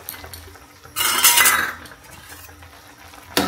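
Greens and rice flour are stirred in a pot, with a metal utensil making a brief scraping, clinking rustle that lasts under a second against faint background noise.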